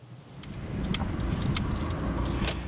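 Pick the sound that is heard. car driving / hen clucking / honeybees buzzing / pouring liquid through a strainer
car driving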